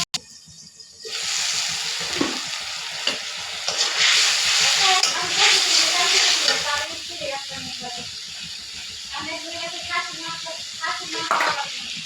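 Onion paste frying in a pan with turmeric and ground coriander stirred in, giving a steady close hiss and sizzle broken by scraping and clinking of a utensil, with a voice speaking over it.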